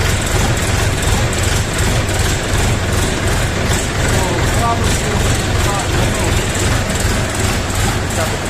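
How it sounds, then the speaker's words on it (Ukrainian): A DTZ minitractor's diesel engine idles close by, a constant low rumble with mechanical clatter running unchanged throughout. "Значить, от двигун працює хвилину"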